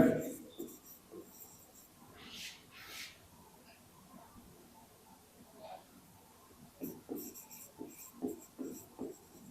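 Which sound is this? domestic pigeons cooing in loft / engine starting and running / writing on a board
writing on a board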